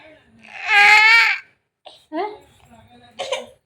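A voice gives a long strained cry-like cough burst, then a few shorter coughing sounds after a pause, close by.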